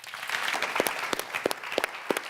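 Studio audience applause on a daytime talk show, scattered sharp claps over a soft crowd wash, moderately loud and continuous for a couple of seconds without speech.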